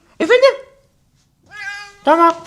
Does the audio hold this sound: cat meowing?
yes